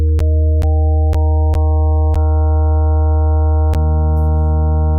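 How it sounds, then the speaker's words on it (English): Synthesizer sine wave with harmonics added step by step, a loud sustained low tone whose timbre grows brighter with each of several abrupt changes, alone with no voices. "it's basically just a sine wave, but when you start adding harmonics in,"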